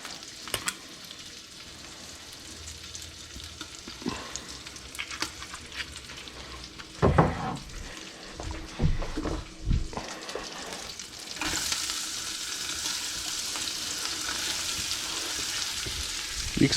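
Butter and extra virgin olive oil sizzle and fry in a pan on medium heat, a steady crackle that swells louder midway with stirring clatter, then settles into a brighter continuous hiss.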